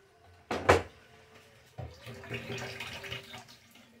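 A short splash of liquid pours over bread dough, then a softer, longer stretch of trickling and sloshing close by.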